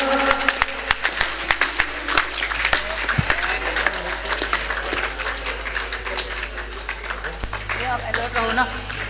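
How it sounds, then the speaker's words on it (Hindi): A crowd at a gathering for Gurumaa breaks into lively applause, with many hands clapping in a dense, uneven patter and some sharper claps standing out, while voices talk over it. "तालियां।"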